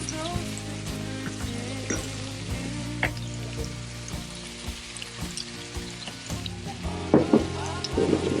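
Spring onions frying with vegan chowmein noodles over an outdoor cooking fire, a continuous sizzle with clatters and scrapes of stirring, growing busier toward the end, with a low hum underneath.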